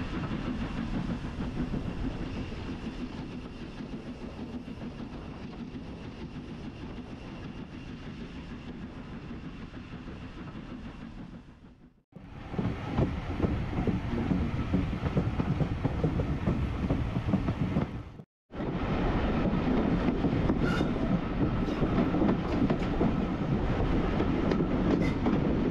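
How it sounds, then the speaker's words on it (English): A steam train runs along the Embsay & Bolton Abbey heritage railway, steady rolling rumble and rhythmic wheel clatter filling the whole stretch, close and loud, broken by two brief cuts, with no talk. "No need to stop today as there's only one train in steam."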